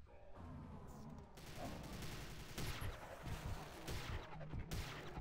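Rapid gunfire from the video game Prey rattles in dense bursts while panels are shot, with sharp repeated cracks running continuously for several seconds at moderate level.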